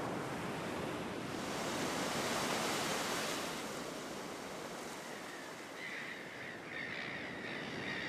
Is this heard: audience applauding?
no